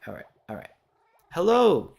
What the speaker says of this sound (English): You can probably hear all the cats and things in the background.